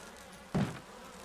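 Buzzing bees in the video game Resident Evil (2002), a single short, loud swell of insect drone that rises sharply and fades within half a second, standing alone over quiet game ambience.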